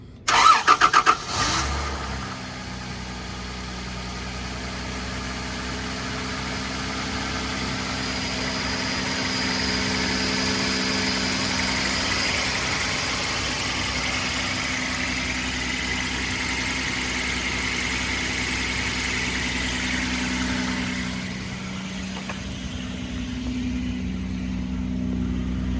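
A 1997 Toyota Land Cruiser engine cold-starts on a chilly morning with a brief loud cranking burst, then settles into a steady, even idle that hums on for over twenty seconds before quieting slightly near the end.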